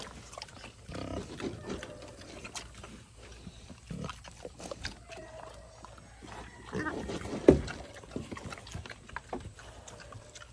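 A big, solid pig grunts and snorts in short irregular bursts close by, with scuffling and movement noise between, and a louder squeal-like grunt near the end.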